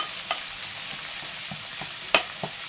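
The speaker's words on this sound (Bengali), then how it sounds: "পুরো কাঁচা লঙ্কাগুলোকে দু টুকরো করে দিচ্ছি ছিঁড়ে। এবার এগুলোকে ভেজে নেব।" Halved green chillies fry in a pan with a faint steady sizzle, broken by a few soft stirring scrapes and one sharper clink, and no voices.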